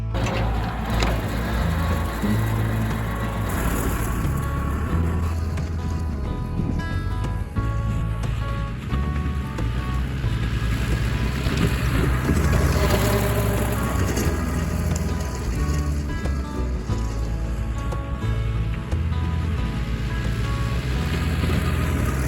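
Tractor pulling a bush hog rotary mower across uneven ground while mowing a cover crop before plowing gives a steady loud engine drone and mower rumble, continuous for the whole stretch, with no talking.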